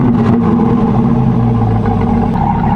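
Chevrolet Corvette C8 Stingray with a 6.2-litre V8 running loud and close, a deep steady rumble holding throughout with slight shifts in pitch, no voices over it.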